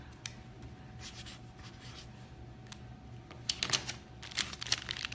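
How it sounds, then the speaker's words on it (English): A note being handwritten while sugar in snack bars is measured: soft, scratchy pen strokes, faint at first and growing busier and louder in clustered bursts toward the end, with no talking. "So I'll write that down."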